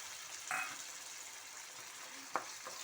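Soft steady sizzle of tomato frying with onions in a pan, faint and continuous, with a brief clatter near the start and a sharp clink toward the end.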